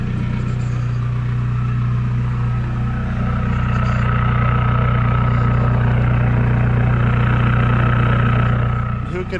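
A straight-piped diesel truck idles close by in snowy weather, a loud steady low rumble with a constant droning tone that holds for nearly ten seconds.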